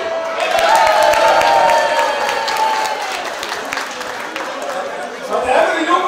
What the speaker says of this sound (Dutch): Applaus voor jullie!